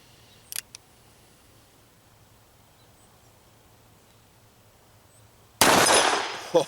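A single .357 Magnum +P shot from a Smith & Wesson 686 Plus revolver fired outdoors at dusk: one sharp, loud blast with a ringing tail, after a couple of faint clicks over quiet ambience.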